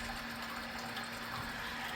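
Sparge water trickling steadily through a bed of grain during home beer brewing, a faint, even wash of splashing with a constant low hum from nearby equipment.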